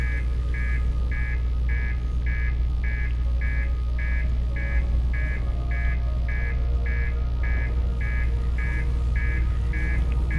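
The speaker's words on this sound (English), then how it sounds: "That's the master alarm." Spaceship master alarm in the Outer Wilds video game: a loud, steady pulsing electronic beep repeating about twice per second over a heavy low rumble, continuous throughout with no talking.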